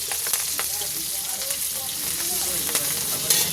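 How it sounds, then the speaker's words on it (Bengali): Slit green chillies frying in hot oil, a close, steady sizzle with small spits and pops and a few stirring knocks, with no talk over it. "তেলের মধ্যে দিয়ে দিলাম কেন, লঙ্কাটা একটু ভাজা হয়ে যাবে"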